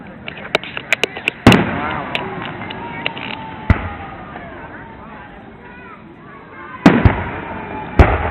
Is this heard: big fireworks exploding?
yes